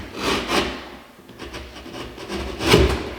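Knife trimming a part during a test fit, giving a few rasping, scraping strokes in bursts with short pauses, close and fairly loud, with no talking.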